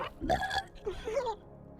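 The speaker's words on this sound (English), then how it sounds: "Then we have to watch Rotta burp and giggle." Cartoon baby Hutt from Star Wars: The Clone Wars giving a short, gurgling burp, followed by a brief voiced giggle-like sound, fairly faint and close.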